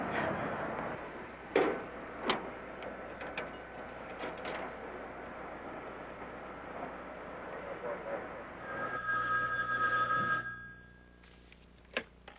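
A telephone rings on an outgoing call, a burst of ringing tone for about two seconds near the end, heard after a stretch of muffled background talk and clicks.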